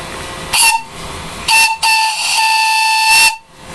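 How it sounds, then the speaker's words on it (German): Steam whistle on a fire-tube boiler fired by a new 170 mm ceramic gas burner: loud, close shrill blasts of varying length over steady steam hiss, the final blast held longest before cutting off. "Die Dampfpfeife,"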